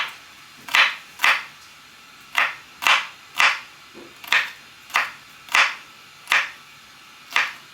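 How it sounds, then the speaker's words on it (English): A knife chops hot peppers for spicy cranberry pepper jelly, giving about a dozen crisp, evenly spaced thuds on the cutting board, close and clear with no talking. "So I'm going to get all this chopped up."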